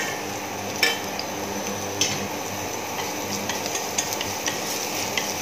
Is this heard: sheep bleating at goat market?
no